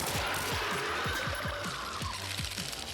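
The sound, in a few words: Magnum gunshots in Resident Evil 2 video game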